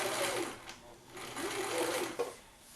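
A sewing machine runs steadily as it hems stretchy polyester fabric for a homemade compression shirt, its motor whirring in close, continuous bursts with slight speed changes and a brief clunk near the end.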